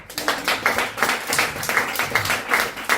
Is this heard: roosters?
no